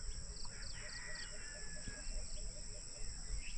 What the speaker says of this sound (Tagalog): Sarap ng mga huni ng ibon.